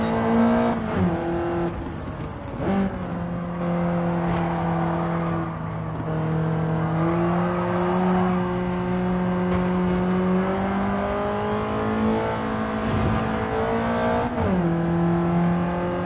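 A BMW race car lapping a circuit in Gran Turismo 7, its engine droning loud and close as it holds steady revs, with repeated sharp pitch drops and climbs at the gear shifts and no talk over it.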